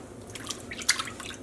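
Yarn soaking in a room-temperature water bath with a little dish soap, giving a few close, light drips and small splashes over a faint background hush.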